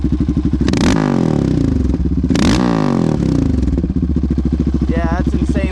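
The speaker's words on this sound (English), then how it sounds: "monster exhaust is on, guys. Let's do a little bit of a sound test." A Yamaha Raptor 700R ATV fitted with a new Monster exhaust revs loudly close by, with sharp throttle blips over a rough, pulsing idle and a brief voice near the end.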